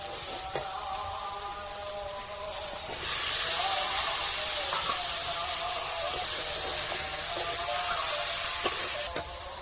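Young jackfruit drops into hot spiced oil in a pan, and a loud, close sizzling hiss surges up partway through and keeps hissing steadily, with faint clinks of stirring.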